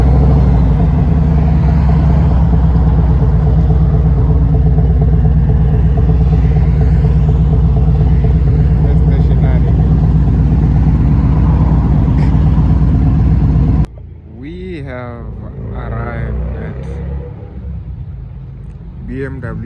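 At a BMW dealership demo day, a loud close engine rumbles and drones steadily for most of the stretch, then cuts off sharply, leaving a quieter stretch where a person talks.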